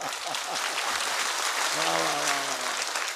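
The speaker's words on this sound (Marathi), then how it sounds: "टाळी अशी मर्दासारखी वाजवली पाहिजे बरं" Vigorous clapping from a kirtan crowd, sustained and loud throughout, while someone talks over it.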